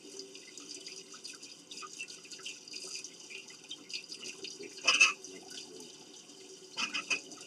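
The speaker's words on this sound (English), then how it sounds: "Turn on that water" Kitchen water tap running into a sink while cooking homemade pizza, a steady faint hiss of flowing water with a couple of brief louder splashes, no talking.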